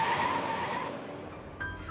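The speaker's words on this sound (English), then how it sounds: "A truck appears out of nowhere, coming to a screeching stop in their path." A truck in the Arknights video game skids to a sudden screeching stop, a loud, harsh tire squeal over broad rumbling noise that fades within about a second, followed by a brief sharp tonal burst near the end.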